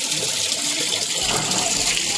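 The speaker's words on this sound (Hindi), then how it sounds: "मस्त पानी भर रहे हैं यहाँ पे।" Tap water pours steadily into a container for kneading dough at a home gathering, a continuous broad gushing rush lasting throughout with no talk over it.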